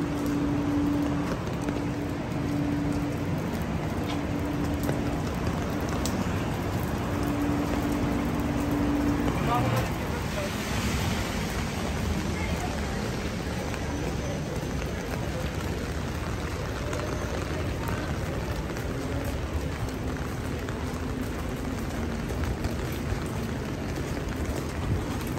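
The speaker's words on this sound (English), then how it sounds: "Raining hard, but it's okay" Steady, dense hiss of heavy rain in New York City fills the whole stretch, with background chatter and a brief tonal hum early on.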